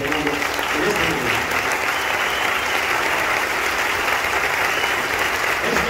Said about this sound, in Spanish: voy a pedir un fuerte aplauso